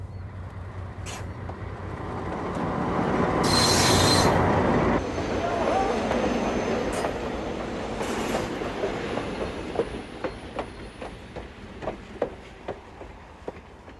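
A train rolls past nearby, a loud swelling rumble with squealing wheels, then fading into rhythmic clickety-clack of wheels over rail joints.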